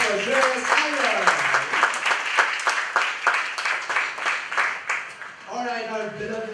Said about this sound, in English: Big round of applause for Shreyas Iyer